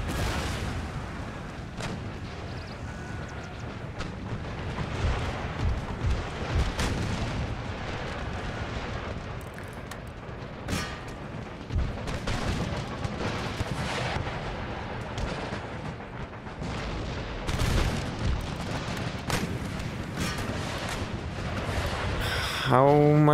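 Repeated cannon and artillery booms from an Empire: Total War battle, the deep blasts firing irregularly throughout amid musket crackle, with a voice talking over the din.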